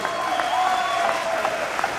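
Audience applause at a school board meeting, a steady wash of clapping from a crowd filling the room, with voices faintly mixed in.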